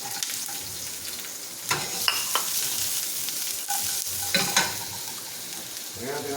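Garlic sizzles steadily in a frying pan, a continuous bright crackle with occasional louder spatters and clinks of stirring, with no voices over it.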